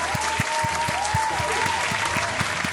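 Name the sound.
audience applause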